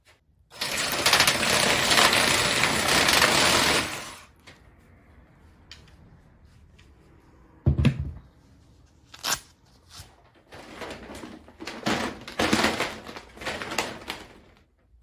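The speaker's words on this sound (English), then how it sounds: "I'm going to take my cutter, go over this piece of lath" A panel cutter runs through metal lath in a loud, continuous grinding stretch of a few seconds, followed by quieter shuffling and several sharp, raspy cutting bursts close by.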